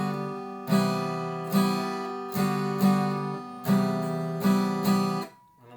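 An acoustic guitar strums chords with all down strokes, seven evenly spaced strums that each ring out and decay before the next, played alone and close with no talking.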